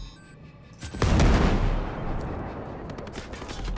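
Gunfire in the video game Ghost Recon Breakpoint erupts suddenly after a quiet start, a loud close burst of rapid automatic shots that settles into a sustained rattling barrage.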